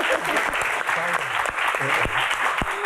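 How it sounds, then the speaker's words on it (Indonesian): A studio audience at an Indonesian Q&A show breaks into applause, a brief burst of dense clapping with a voice talking over it. "tepuk tangan buat Kang Sule."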